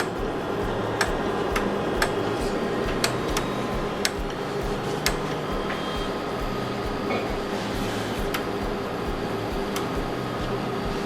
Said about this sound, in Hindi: सील वॉश में जो टिक टिक कर रहा है,